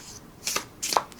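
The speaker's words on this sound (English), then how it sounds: "Overhead shuffling is fine." Overhead shuffling of a small deck of thick tarot cards made of heavy card stock, with a few quick, soft papery riffs and slaps, close and fairly quiet.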